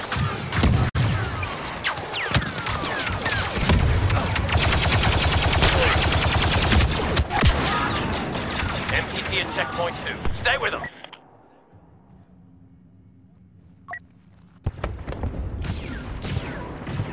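Gunfire in the Star Wars game Battlefront 2, dense bursts of shots and impacts for about eleven seconds with voices talking over it, then a near-silent stretch before the fighting resumes briefly at the end.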